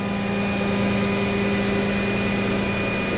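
A Peterbilt tow truck's diesel engine drones steadily as the truck creeps forward. It makes an even, close, continuous hum with no talking.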